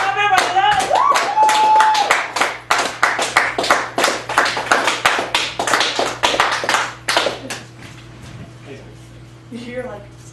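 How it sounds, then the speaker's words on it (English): An audience at a poetry open mic at the Cafe Gallery in Chicago claps and taps together for several seconds. The dense clapping runs mixed with a voice and crowd chatter, then thins out toward the end. "He's way too used to all this applause."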